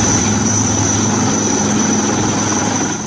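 An army rescue helicopter flies over flood-hit Kathua during rain, its engine and rotor making a loud, steady drone with a high whine that fills the scene and fades slightly toward the end.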